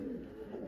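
Pet birds near a snake give a brief, soft low coo, close by and steady for well under a second, with no talk over it.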